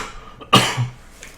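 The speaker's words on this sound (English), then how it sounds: "I still have a bit of a cough" A person with a lingering cough gives one short, close cough, a sharp burst that trails off quickly.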